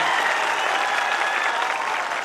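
A crowd at a Bollywood night comedy show breaks into thunderous applause, a continuous loud wash of many clapping hands sustained without pause for the whole stretch.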